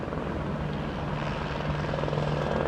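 Helicopter flying into the Grand Canyon, heard from hikers on the trail as a steady, rumbling rotor drone at moderate distance, holding level throughout with no talking.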